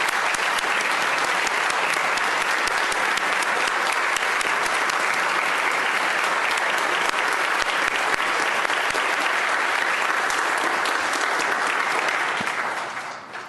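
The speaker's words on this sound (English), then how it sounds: "I'd like to ask all the House members to give her a warm round of applause for welcome to Virginia." Members of the Virginia House of Delegates give a warm round of applause welcoming guest Karen Korematsu on the chamber floor, a loud, dense, continuous clapping that tapers off at the very end.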